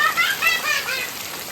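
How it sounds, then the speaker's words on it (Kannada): Heavy rain pours over a village in the Malenad hills, a steady close hiss of falling water with faint tonal sounds drifting over it through the short stretch. "ಬರ್ ಜರಿ ಮಳೆ ಉಯ್ತಾ ಇದೆ"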